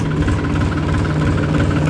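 Massey Ferguson tractor engine running at a steady idle, a constant low rhythmic chug with a close, even drone and no talk, the starting moment itself not evident.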